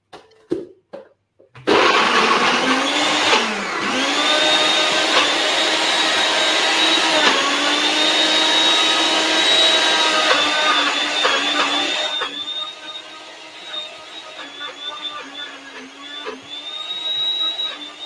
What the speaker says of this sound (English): So he's blending everything up over here.